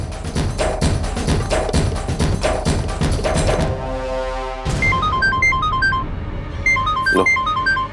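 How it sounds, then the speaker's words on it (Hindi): A mobile phone ringtone plays loudly, a bright beeping melody of quick repeating tones that cuts in over music and a swishing sound effect, with no talking. "शैतान का नाम लिया और फोन आ गया"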